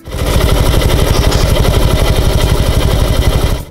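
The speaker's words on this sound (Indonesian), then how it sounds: "Dan mari kita dengarkan suara mesinnya." Automatic scooter engine idling after a CVT repair, a loud, close, steady mechanical putter with even rapid pulsing and no talk.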